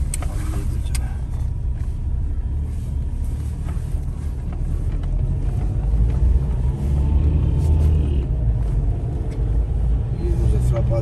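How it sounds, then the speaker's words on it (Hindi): Road traffic in Muzaffarabad, Kashmir, forms a constant, heavy low rumble of engines and passing vehicles with wind buffeting the microphone, while a person talks over it. "तो जी मुजफ़्फ़राबाद की ट्रैफिक"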